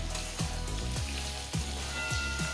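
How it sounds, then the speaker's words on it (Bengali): Pointed gourd slices fry lightly in hot oil, a steady soft sizzle with periodic crackles and light clinks, continuous and close with no talking. "এবারে পটলগুলো ভেজে নেব।"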